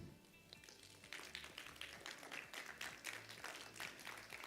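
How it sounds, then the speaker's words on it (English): Audience of parents, students and teachers applauding at a school oratory contest, starting with a few claps then swelling into moderately loud, steady clapping heard from a distance. "Claps for everybody, please."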